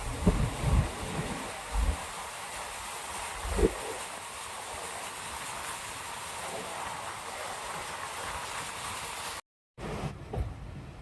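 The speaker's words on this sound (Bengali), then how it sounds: "রাত 3:20, আর আমাদের ট্রেন ঢুকছে জঙ্গিপুর রোড রেলওয়ে স্টেশনে।" Heard from inside an almost empty night train pulling into Jangipur Road railway station, a steady low rumble runs with airy rushing noise and a few dull thuds, continuous and moderately loud, with a brief dropout near the end.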